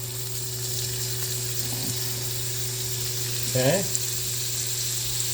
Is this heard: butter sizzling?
yes